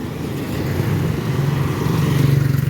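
A Rusi Sparkle 150i scooter engine hums steadily during a test ride, its low drone rising slightly and pulsing faster near the end as the throttle opens.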